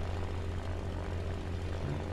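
Steady propeller engine drone of a Saab B-18B medium bomber in War Thunder, a constant low hum with no variation, alone without speech.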